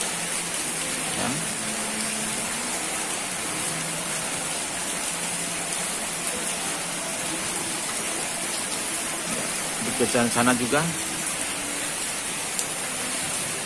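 Heavy rain pours steadily over plants on school grounds, a dense, even wash of hiss throughout, with a brief louder patch of splashing near the end and a voice speaking faintly once.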